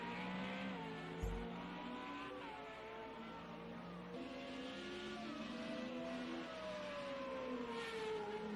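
FR35 race cars racing at the Algarve circuit: several high-revving engines whine and shift pitch continuously at a steady, moderate distance, with one brief low thump early on.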